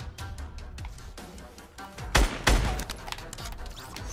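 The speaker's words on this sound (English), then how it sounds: "Oh, we're getting shot at badly." Gunfire in the video game Fortnite, rapid bursts of shots with two loud heavy blasts in the middle, dense and close throughout.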